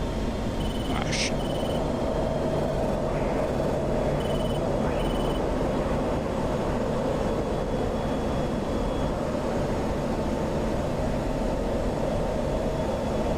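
Aircraft engines drone continuously in a flight combat video game, several planes closing in at once, a steady loud broadband roar with a few brief high tones and chirps layered over it.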